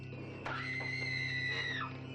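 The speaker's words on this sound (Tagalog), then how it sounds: "Rinig na ang mga sigaw sa haunted attraction na ito sa Parañaque." A single shrill scream rises suddenly and holds for over a second before trailing off, over a low background hum, at a haunted attraction in Parañaque.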